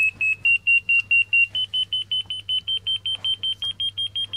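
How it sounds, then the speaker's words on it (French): Ortovox 3+ avalanche transceiver giving rapid guidance beeps during fine search, a steady train of short high electronic pips roughly five per second, loud and close, with a faint low hum underneath. "on a un système de guidage sonore et visuel qui permet d'approcher le plus possible"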